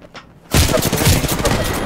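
Gunfire in the video game Apex Legends opens with a sudden burst after a brief lull, then continues as loud, rapid automatic fire with sharp overlapping shots.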